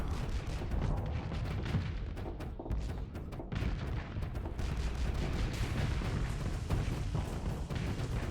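Impact driver cannon fire in the space combat game Starsector, a dense run of booming shots and blasts over a constant loud rumble, with no talking.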